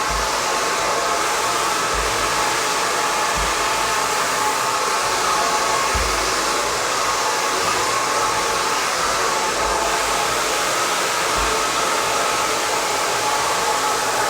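A hair dryer blows steadily and close during an at-home blow-dry, a constant broadband whoosh with a few low bumps as the airflow shifts against the hair.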